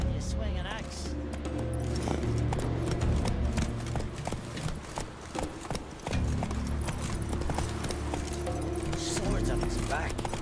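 Horse hooves clip-clopping at a steady gallop in The Witcher 3, dense and continuous beneath game music, with a voice talking over it.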